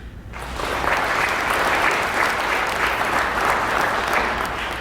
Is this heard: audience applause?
yes